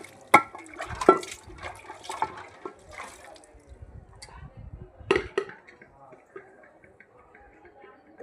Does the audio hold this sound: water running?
yes